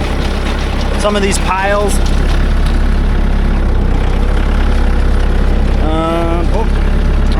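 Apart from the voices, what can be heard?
tractor engine running while dragging a field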